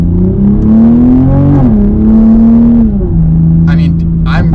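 A 500 hp Toyota Supra accelerating hard from first gear on partial throttle, its engine note rising and shifting loudly and close, with sharp exhaust pops crackling near the end.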